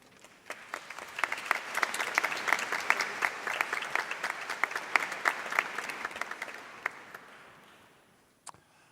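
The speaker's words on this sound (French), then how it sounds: "Je crois que vous pouvez les applaudir." Applause from a church congregation during a healing prayer service for the sick, a dense steady patter of many hands clapping for several seconds and then tapering off into quiet.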